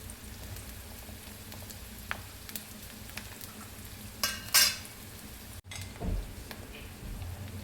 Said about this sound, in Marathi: हा कांदा मंद आचेवरती शिजू द्यायचा तेलामध्येच.